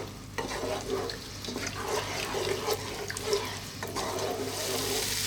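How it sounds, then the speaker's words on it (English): A chicken stew simmering over low heat in a pot, stirred now and then, gives soft wet scraping and bubbling sounds with some sizzle, moderately close and steady, with no talking. "Give it a stir every now and then."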